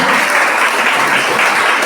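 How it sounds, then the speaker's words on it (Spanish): Congregation at a church service applauding together, a dense, loud, steady wash of many clapping hands that fills the whole moment without letup. "Dale un aplauso al Señor"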